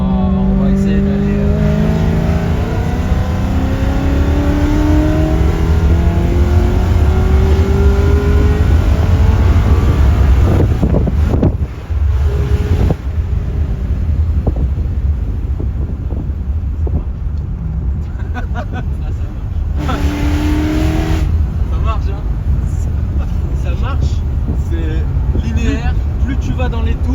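A supercharged V8 in a BMW M3 E92 revs and pulls hard while driving, its loud engine note climbing and dropping through the gears, with people talking inside the cabin throughout.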